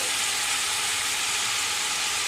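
Julienned ginger added to chicken frying in hot oil, producing a steady, loud, dense hiss of sizzling that carries on unbroken, close up, with no voices.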